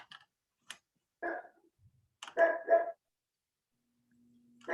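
A dog barks a few times in the background of a remote tenants' rights meeting, faint and distant, in short separate bursts with quiet between them.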